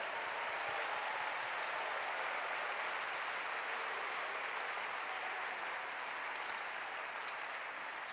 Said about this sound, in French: Let's give a mighty hand for them